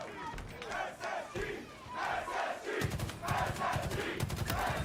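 A large crowd cheers and roars at a Halo esports grand final in Salt Lake City, a dense sustained wash of voices that swells louder partway through while in-game gunfire rattles underneath.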